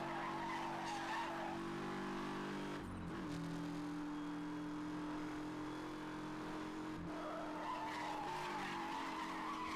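Racing car in Need For Speed Hot Pursuit Remastered doing a brake drift: sustained engine drone with tires squealing and skidding through a long slide, loud and continuous, with no talking.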